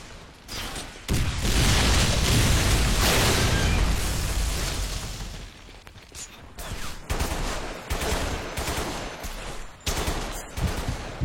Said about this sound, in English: He's called in an airstrike.